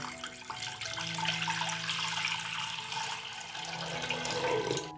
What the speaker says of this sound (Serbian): Moj ekspres lonac je zapremine 6 litara i sipat ću litar vode.